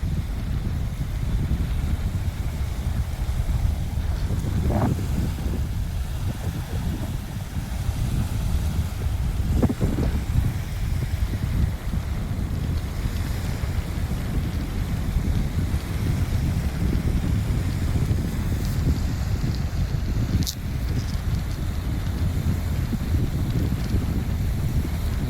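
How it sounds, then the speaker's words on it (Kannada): Wind blows at sunset in Agumbe, heard as a constant low rumble buffeting the microphone, steady and loud for the whole stretch with no talk. "ಗಾಳಿ ಬೀಸುತ್ತಾ ಇದೆ."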